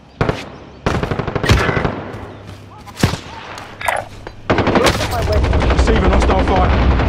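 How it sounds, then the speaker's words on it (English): Hostile gunfire in a stealth video game: loud, sharp bursts of automatic fire come in irregular clusters, with a dense, sustained volley near the end. "Receiving hostile fire."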